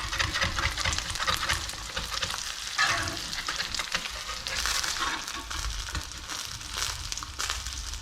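A smashburger fries in hot oil with a loud, steady sizzle and crackle, broken by scraping and stirring noises from close by, with no voices.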